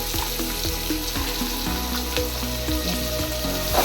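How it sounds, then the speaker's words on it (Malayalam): Chopped green chili, ginger and onion fry in a pan for prawn masala, making a steady close sizzle with scattered scraping and clinking as they are stirred, and no voice present. "ഇതിനുശേഷം നമ്മൾ അരിഞ്ഞു വെച്ചിരിക്കുന്ന പച്ചമുളക്, ഇഞ്ചി, സവാള ഇവ ചേർത്ത് നന്നായി ഇളക്കുക."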